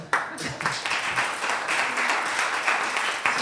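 Audience applause at an ecology festival in Nantes-Nord, steady close clapping with sharp individual claps standing out, sustained throughout at moderate loudness.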